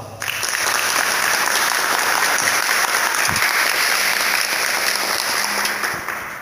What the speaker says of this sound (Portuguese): Eu convido você a aplaudir essa palavra.